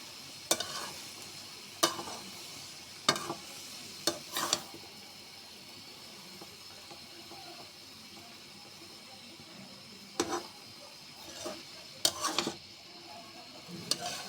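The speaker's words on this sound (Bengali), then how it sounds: "এখন ভালো করে নেড়ে চেড়ে দেবো।" Cabbage with peas and shrimp sizzles in a pan under a low, steady fry, broken by sharp scraping stirs in short bursts near the start and again toward the end; no one talks.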